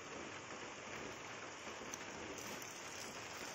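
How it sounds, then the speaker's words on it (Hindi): Steady, quiet rain falls in a continuous hiss, a soft even wash with no voices. "ये बारिश सच में गिर रही है।"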